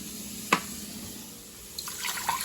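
Water for mashed potatoes poured into a cooking pot in a home kitchen, a short splash followed by a faint running trickle and light drips, quiet and close, with no talk.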